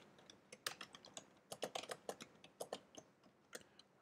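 Typing on a computer keyboard, a close run of crisp, irregular key clicks with a few quick bursts and short pauses, heard alone without any voices.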